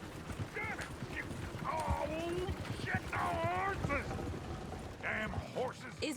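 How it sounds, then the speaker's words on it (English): Horses' hooves clip-clop on a town street in the video game Red Dead Redemption 2, a steady rhythmic clatter under ambient crowd chatter and overlapping voices. "Damn horses!"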